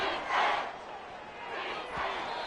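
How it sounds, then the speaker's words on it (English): Stadium crowd roar in a Madden football video game during a Bears versus Washington matchup, swelling in broad waves of cheering at moderate loudness with no clear talk over it. "This crowd turning up the decibel level"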